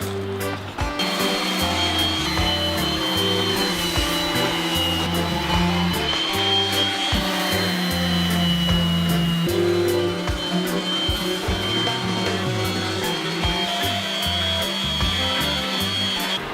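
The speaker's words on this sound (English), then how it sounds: "we're gonna give it some love with the orbital sander" An orbital sander works over a painted black piano cabinet, a continuous close whirring buzz with shifting pitch as pressure and position change, running steadily throughout with no talk.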